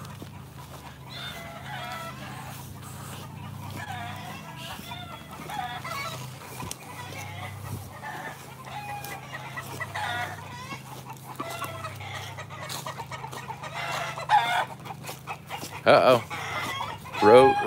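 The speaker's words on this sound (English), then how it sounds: "Chickens bugging out." Chickens cluck steadily at close range, with a rooster crowing toward the end, while someone talks intermittently over the flock.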